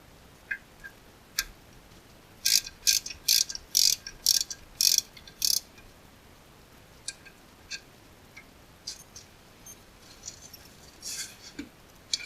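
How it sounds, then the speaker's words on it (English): Ratchet with a 17 mm socket backing out brake caliper bolts on a Toyota FJ Cruiser's front spindle, giving a quick burst of rapid metallic clicks followed by scattered lighter ticks, close and fairly quiet with no talk. "Now I'm going to finish removing the bolts holding the caliper to the spindle using the 17."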